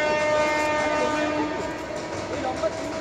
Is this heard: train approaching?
yes